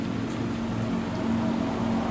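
Black rain pours endlessly in the video game Dive or Die, a dense, steady hiss of heavy rainfall over a low droning tone, with no voices.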